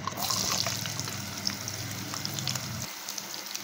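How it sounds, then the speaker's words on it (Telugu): Onions deep frying in plenty of oil in a pan, a steady close sizzle and bubbling hiss that runs on and then cuts off abruptly near the end. "వేసుకొని ఆ ఆనియన్స్ డీప్ ఫ్రై చేసుకోండి బ్రౌన్ కలర్ వచ్చినంత వరకు"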